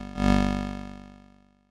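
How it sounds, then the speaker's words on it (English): An 8-bit synth stab with the sustain turned all the way down and a slow attack, swelling in gently from near silence and then decaying away over about a second and a half, heard alone. "this gives us a little bit of a sort of a fade in on a stab sound"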